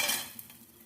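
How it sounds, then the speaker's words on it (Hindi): Gond, an edible gum, fried in ghee over low heat for sooji panjiri, giving a soft, steady sizzle with light stirring and a faint utensil clink close by, fading slightly over a brief moment. "गोंद को भी हम फ्राई कर लेते हैं।"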